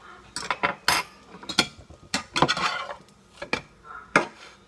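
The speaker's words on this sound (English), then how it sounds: "Take a fork and poke the pancake a couple times" A fork pokes and taps a cooking pancake in a pan several times, giving irregular sharp metallic clicks and scrapes at close range, with no talking.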